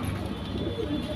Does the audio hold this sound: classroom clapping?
no